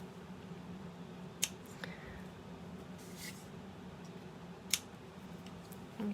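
Scissors trimming ribbon tails on a handmade card, a few sharp, quiet snips spaced apart over a low, steady room hum.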